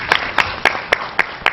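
Studio audience applause welcoming a foreign ministry guest at a forum, heard as six sharp, evenly spaced bursts of clapping, close and moderately loud.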